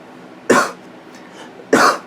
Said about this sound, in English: I'm in the middle of a cold right now, so if I'm coughing